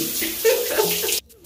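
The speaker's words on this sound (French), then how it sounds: "Donc, je vais prendre une bonne douche et je vous reviens dans 20 minutes." Shower water runs steadily as a broad, continuous hiss for about a second, then cuts off abruptly into near silence.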